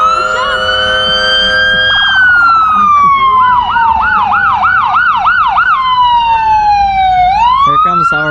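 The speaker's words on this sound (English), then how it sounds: "Ronnie, police is here." A police car siren wails loudly nearby during a town parade, shifting from a long rising-falling tone into rapid yelping cycles, then a quick whoop, with crowd noise underneath.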